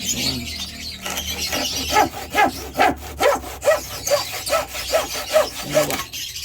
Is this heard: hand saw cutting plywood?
yes